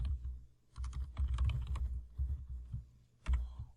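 Code is typed on a computer keyboard in quick irregular bursts of crisp key clicks with short pauses between them, close and clear, and no one speaks.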